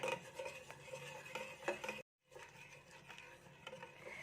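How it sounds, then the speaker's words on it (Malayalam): A spoon stirs a milky mixture in a pan over a low flame, giving soft rhythmic scraping and faint clinks at low volume, with a brief silent break in the middle. "ഇതിൻ്റെ കട്ട കെട്ടാണ്ട് നമുക്ക് എല്ലാം നല്ലപോലെ ഒന്ന് മിക്സ് ചെയ്തിട്ട് നല്ലപോലെ എടുക്കട്ടെ"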